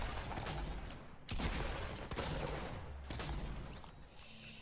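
Pump shotguns firing in Fortnite at Greasy Grove, heard as dense, continuous gunfire and bursts of shots with loud cracks around the one- and two-second marks, no talk.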